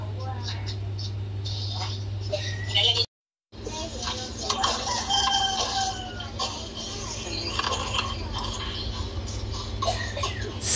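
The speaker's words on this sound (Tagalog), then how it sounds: "See, naituktugaok sa manok." A rooster crows amid noisy outdoor background with voices and chatter, the sound cutting out briefly partway through.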